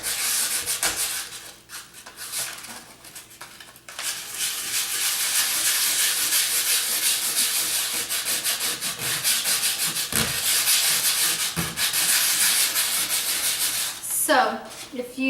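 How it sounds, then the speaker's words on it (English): Steady rubbing scrape of 150-grit sandpaper across dried texture cream on a DIY shamrock decoration, a continuous close hiss with brief pauses between strokes, then a short clatter near the end. "I have 150 grit, so it's pretty fine. And all you have to do is just start sanding it"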